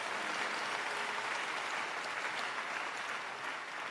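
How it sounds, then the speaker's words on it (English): A church congregation at a Sunday service claps together in a continuous, even wash of applause, moderately distant and unbroken for the full few seconds with no talk over it. "Give the Lord a better clap offering."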